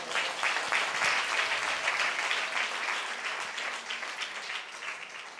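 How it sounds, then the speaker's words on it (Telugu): Steady, dense applause from a congregation at a Telugu sermon in Kakinada fills the space evenly throughout, sounding somewhat distant and moderately soft rather than close. "గట్టి చప్పట్లు కొడదాం."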